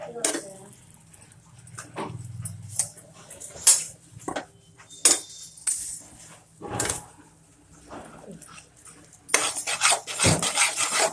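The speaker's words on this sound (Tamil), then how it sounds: "2 டீஸ்பூன் நெய் ஊற்றினா சரியாக இருக்கும். இதை போட்டு நல்லா கலருங்க." Cashew cake mixture with ghee is stirred in a pan, giving scraping, rasping strokes and clinks of a utensil against the metal. Someone talks over it, and a dog barks briefly in the background.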